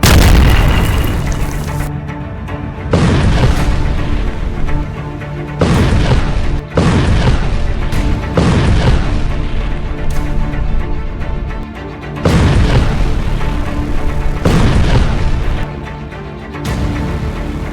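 Israeli tanks blown up in a Hamas attack, a string of loud, heavy booms and blasts arriving in repeated bursts a few seconds apart, each followed by a rumbling decay, with no talk.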